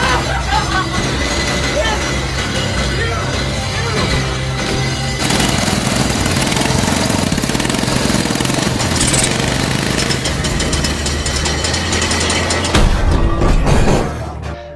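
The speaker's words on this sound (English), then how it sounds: "they created the very first motorcycle engine" A homemade early motorcycle engine is cranked and then runs as a loud, continuous, rough mechanical clatter with a steady rattling rhythm, getting slightly louder partway through and stopping abruptly at the end.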